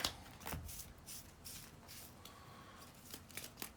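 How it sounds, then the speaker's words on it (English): A deck of game cards is shuffled during a board wargame, quiet crisp riffles and slides in a few short bursts, close and soft. "we'll give these a shuffle"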